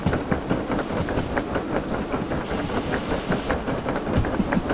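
Steam locomotive in the Derail Valley train game rolling at a brisk pace, with a steady rhythmic clickety-clack of wheels over rail joints and a continuous mechanical rumble, close and alone.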